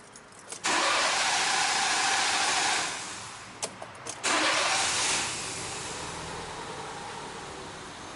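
Fiat Fiorino engine cranks twice, the first try a loud two-second rasp that fades, the second catching after brief clicks and settling into a steady idle up close.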